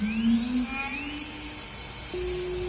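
A CNC router spindle spins up with a steady, rising whine that jumps to a higher steady pitch partway through, close and fairly loud with no talk.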